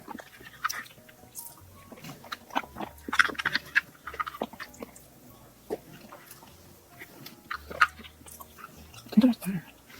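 Strawberry pudding dessert being chewed close up, soft wet mouth sounds and small bites scattered irregularly through the clip, with faint background noise and no clear talk.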